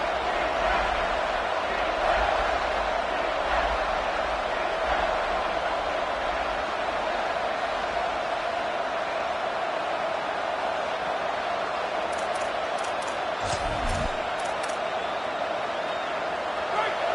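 Crowd noise in a college football video game simulation, a steady roar of a stadium crowd backing the defense near the goal line, mostly under continuous play-by-play commentary.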